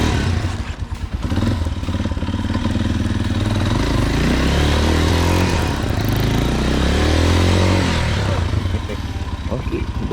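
Yamaha XT motorcycle engine running loud and close for about ten seconds, a steady low throbbing idle that rises and falls in pitch as it revs, with clattering mechanical noise on top and people talking over it.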